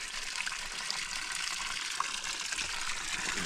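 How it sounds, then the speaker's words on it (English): Spring water pours straight out of a hillside, a steady close rush and splash that runs unbroken with no voices. "So here's what the spring looks like. It's just water coming straight out of the"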